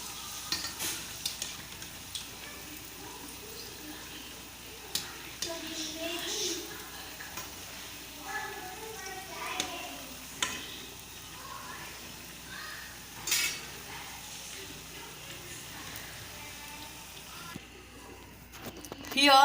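Gram-flour methi bhaji gota sizzle and bubble in hot frying oil, with soft stirring and scraping as they are flipped, a steady close crackle running under a person talking.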